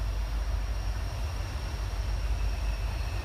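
A train rumbles steadily past through woods on an old Civil War-era railroad line, a continuous low roar with broadband rushing noise and no voices.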